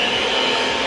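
Blender whirring steadily as it mixes grain-free, nut-free, dairy-free paleo chocolate chip cupcake batter, a continuous close motor drone with no break and no voices.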